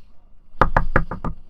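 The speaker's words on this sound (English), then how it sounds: "Hard like that, rapping at his door" Five hard, fast knocks on a door ring out close and loud, evenly spaced in a quick rhythm, with no voices over them.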